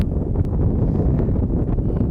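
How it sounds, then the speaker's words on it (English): Strong, gusting wind buffets the microphones at an outdoor high school baseball game, a continuous loud low rumble with no let-up. "these little microphone thingies that we have aren't working very well because this wind is intense"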